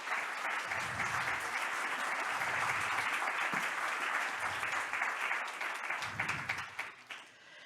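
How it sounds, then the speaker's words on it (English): A conference hall audience applauds the panelists at a European Partnership Stakeholder Forum 2024 plenary session with sustained, even clapping that lasts several seconds. A voice speaks intermittently over it, and the clapping thins out toward the end. "A big applause to our panelists today."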